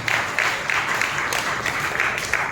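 Congregation applauding at a Telugu church worship service, a steady wash of many hands clapping together with dense, continuous texture and slight surges, filling the space without talk.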